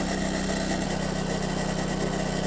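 The small engine on a Split-Fire 2265 log splitter runs at maximum RPM, a steady, loud, continuous drone with a fine rapid pulsing vibration throughout and no voices.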